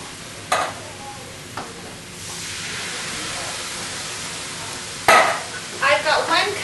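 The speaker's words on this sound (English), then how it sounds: "I have a can of diced tomatoes that I'm going to add to that." Canned diced tomatoes are added to sizzling bell peppers and onion, a couple of sharp clatters, then a rising hiss of sizzle and steam that swells and crackles again near the end, with faint talk in the background.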